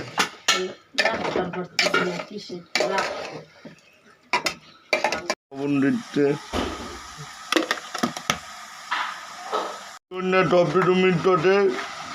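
A utensil clatters and scrapes around a frying pan while food is stirred, heard under and between a person's talking.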